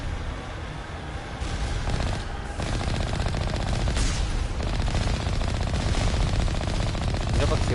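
Sustained automatic gunfire in Mass Effect Legendary Edition, a loud, dense rattle of rapid shots that builds after a brief lull and keeps going without pause.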